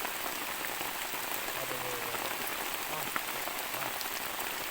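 Steady rain pattering on a surface, a soft continuous hiss with scattered drops, fairly quiet and with no voices.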